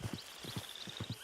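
Horse hooves clip-clop at a brisk walk in the video game Red Dead Redemption 2, a quick run of paired thuds over a faint background hum and a soft high whistle.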